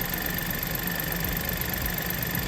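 Warm-idling VW/Škoda 1.0 TSI three-cylinder engine running on its previous oil, a steady low mechanical hum with faint ticking, heard close and alone with no talking.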